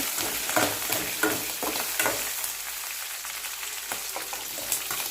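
Green chilies and onions hit a hot pan with dried red chilies and curry leaves, giving a soft sizzle with scraping stirs and clinks of a spoon, fairly quiet and close.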